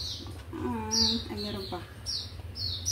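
A noisy pet bird chirps in the background of a home kitchen during salad preparation, giving several short, high tweets while someone talks nearby.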